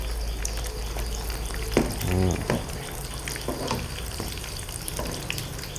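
Chive-filled dumplings deep frying in oil, with a steady crackling sizzle throughout and a few brief stirring or scraping noises close by.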